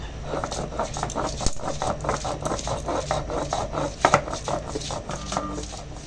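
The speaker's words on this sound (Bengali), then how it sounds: "এই যে আদা কাঁচা লঙ্কাটা বেটে নিলাম" Ginger and green chili being ground on a grinding stone, a steady run of rhythmic rasping rubs with a few sharper scrapes, close and fairly loud with no talking.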